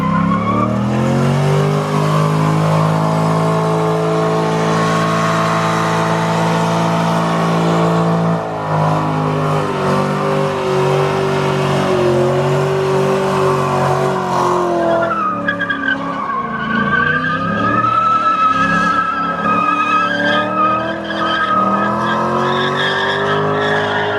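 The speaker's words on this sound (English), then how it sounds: "Now that we left a huge smoke trail, laid down some fat stripes" A Corvette C5 Z06 does a long burnout, its engine roaring loud and close while the revs rise and fall, with continuous screeching tire squeal that wavers throughout.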